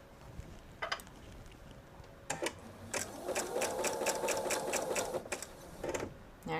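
A sewing machine stitches a quilt seam, running in short bursts and then a longer steady stretch of rapid needle clatter, close and fairly quiet, with small handling knocks between runs.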